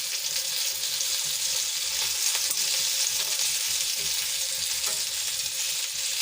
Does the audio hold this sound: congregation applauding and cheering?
no